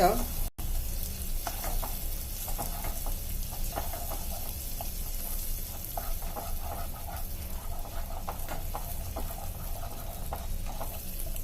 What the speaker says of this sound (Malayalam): പഞ്ചസാര കാരമലായിട്ടുണ്ട് ഞാൻ അതിലേക്ക് ഒരു ഒന്നര ടേബിൾ സ്പൂണിൻ്റെ അത്രയ്ക്ക് ബട്ടർ ചേർത്ത് കൊടുക്കുന്നുണ്ട്